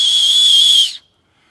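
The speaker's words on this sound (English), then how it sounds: "Make an acorn whistle" A shrill, steady, piercing whistle blown on an acorn cap held across the thumbs lasts almost a second and then cuts off sharply, loud and close with nothing else around it.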